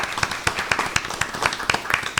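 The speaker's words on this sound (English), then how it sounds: "I best clap for my vice mayor" Steady clapping from a small group at a commission meeting, sharp claps repeating in a quick, uneven rhythm for a couple of seconds, moderately loud and close.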